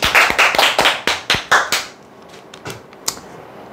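A small audience at an insurance telemarketing coaching seminar claps, a quick burst of sharp, close hand claps lasting under two seconds that then trails off into a few scattered stray claps.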